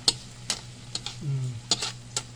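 Sugar sautéed in a pan, a quarter cup being stirred as it starts to melt: soft scraping stirs and light sizzling, with a few brief clicks of a utensil against the pan, close and fairly quiet.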